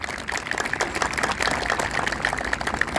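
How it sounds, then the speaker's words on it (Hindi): An audience at a yoga class anniversary gathering in a park claps in a steady stretch of moderate applause, fairly distant, with a faint murmur of people underneath. "इनके लिए तालियां"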